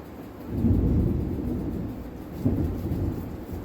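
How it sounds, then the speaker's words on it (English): A low, rolling rumble of thunder over steady heavy rain, swelling twice in quick succession. "Let me know if you guys can hear that thunder."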